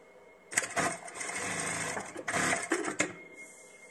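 A Kingtex KLD 8520M industrial sewing machine stitches in two loud bursts of fast, even needle rattle, each ending with a short back-tack, close up with no talking.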